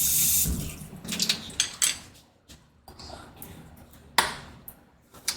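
Chopsticks stirring a light beer and Sprite drink, giving a splashy liquid swirl with a few sharp clicks and taps against the glass, loud at first and then fading to scattered knocks.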